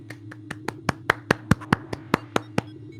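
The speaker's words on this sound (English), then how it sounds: "Clap, clap." Single pair of hands clapping close to the mic, about fourteen crisp, evenly spaced claps over a few seconds over a low steady background hum.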